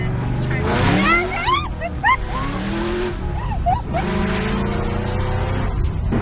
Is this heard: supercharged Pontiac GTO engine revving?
yes